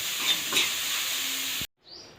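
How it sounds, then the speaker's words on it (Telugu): Banana flower frying in hot oil gives a steady broadband sizzle with a couple of brief louder bursts, then cuts off abruptly before a softer hiss resumes; no one speaks. "ఒక నిమిషం పాటు ఇలానే ఫ్రై చేసుకోవాలి బాగా."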